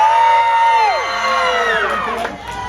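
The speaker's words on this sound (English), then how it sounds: "Mackinac City Camp, you got to cheer twice as loud." An outdoor crowd, children among them, cheers and whoops loudly at a lumberjack log rolling show, with shrill shouts sliding up and down over a continuous roar of voices.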